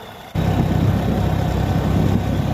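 A motorbike engine starts rumbling as the bike sets off on the road, a steady close drone that kicks in abruptly and holds at a constant loud level with wind noise and no talking.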